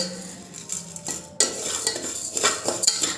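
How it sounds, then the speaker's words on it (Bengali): Rice being dry-roasted and stirred inside a pressure cooker, loud scraping and rattling of grains against metal with a sharp jolt partway, close and busy. "দেখো চাল ভাজা হয়ে গেছে"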